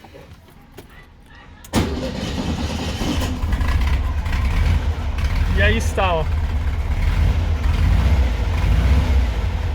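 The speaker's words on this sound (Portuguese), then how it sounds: "o motor funcionando aí" A Volkswagen Beetle engine cranks, catches and settles into a steady, loud running idle after a distributor adjustment, with someone talking over it and a brief jangle of keys.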